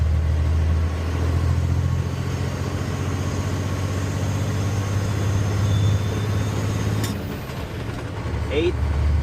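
Paystar 5600 TS truck from SnowRunner with its engine droning low and steady while driving, rumbling on under a bumpy ride, with a brief clatter near the end.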